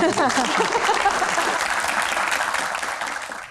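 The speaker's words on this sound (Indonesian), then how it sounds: "Tepuk tangan." Audience applause at a business Q&A session, a dense, steady wash of clapping that starts loud and gradually fades toward the end.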